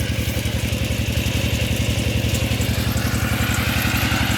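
Small engine of a cheap, compact well-drilling rig boring a water well in rural Surin, Thailand, running steadily with a fast, even thumping idle-like chug, close and continuous with no talk.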